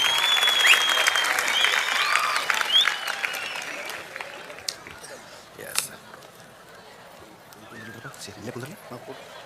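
An audience claps loudly and steadily after a comedy talk at the Koppal Gavisiddeshwara event, a dense burst of applause that fades gradually into scattered claps and a murmuring crowd, with a voice speaking briefly over it.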